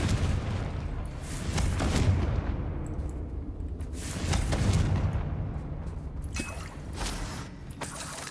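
Confringo blasting spell explosions in Hogwarts Legacy, a video game: repeated deep booms and blasts with rumbling low end, several swelling bursts spread across the stretch amid continuous battle noise.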